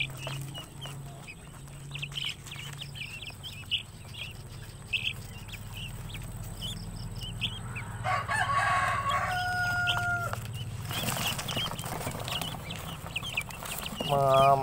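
Two-week-old guinea fowl keets, about fifteen of them, chirp and peep in a busy flock, with high calls rising over a steady low background hum and growing louder near the end.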